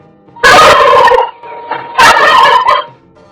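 A turkey gobbles twice, loud and close, each rapid warbling call separated by a short pause with a faint cluck between.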